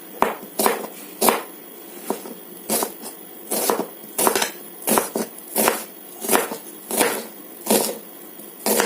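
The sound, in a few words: cutting ridge gourd on a board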